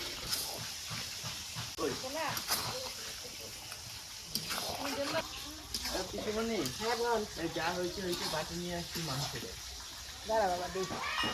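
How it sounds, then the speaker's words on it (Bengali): Mutton curry stir-fried hard on a high flame, a steady close sizzle running throughout beneath almost continuous talking. "একদম জোরসে জাল করে কষিয়ে নিলাম আরও কিছু সময় কষিয়ে"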